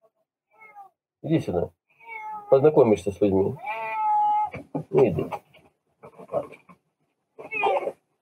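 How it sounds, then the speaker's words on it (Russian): A domestic cat meows several times up close, drawn-out and wavering cries spread through the clip, interleaved with someone speaking to it. "Вот у меня вот такой кот."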